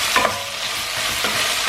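Pork sizzles steadily in a hot pan while a utensil stirs it, with a couple of brief scraping clinks over the continuous frying hiss.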